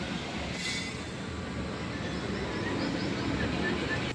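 A train rumbles steadily along the rails with a low continuous roar and faint high squeals from the wheels, heard from inside or close by.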